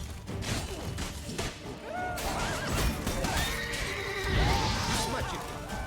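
A horse in The Witcher 3: Blood and Wine neighs and whinnies loudly several times amid combat clashes, thuds and game noise.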